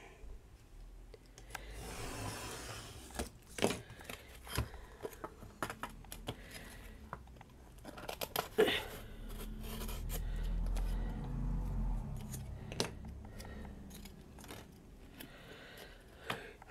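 Scissors cutting paper and card for a mixed media shadow box craft, with scattered close snips and rasping cuts among soft handling rustles and clicks, fairly quiet and with no talk.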